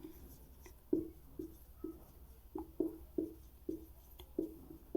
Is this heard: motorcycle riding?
no